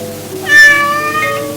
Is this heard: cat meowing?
yes